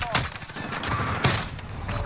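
Shotgun blasts in a fast-paced shooter video game, a couple of sharp loud booms amid continuous game noise, with players talking over it.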